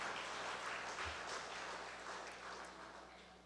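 During a Sunday church service, the congregation applauds a member's birthday; soft, distant clapping forms a continuous patter that slowly fades toward the end.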